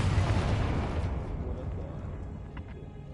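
Confringo fire spell in Hogwarts Legacy bursting with a loud, rumbling blast that decays over about three seconds, with a faint crackle toward the end.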